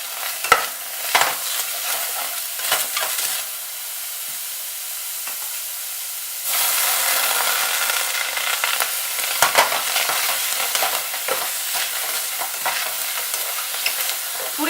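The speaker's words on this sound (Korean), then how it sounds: "그러면 이때 물 한 큰술 넣어서 양파에 색을 입혀줍니다." Onions browning in a pan over medium heat, with stirring scrapes and a quiet sizzle, until a spoonful of water goes in midway and sets off a louder, sustained hissing sizzle with more scraping.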